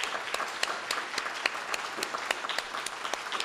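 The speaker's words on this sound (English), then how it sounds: "can we give them a round of applause" An audience at a poster competition in an art museum gives a round of applause for supporting sponsors. It is a steady, even wash of many hands clapping, with sharper claps standing out, and no talk on top.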